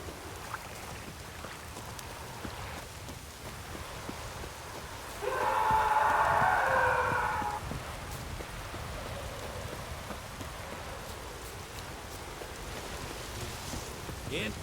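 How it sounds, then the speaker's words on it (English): Steady heavy rain pours throughout in the video game Witcher 3: Wild Hunt, with a louder, brighter rush of downpour swelling for a couple of seconds midway before settling back. "Raining fucking buckets."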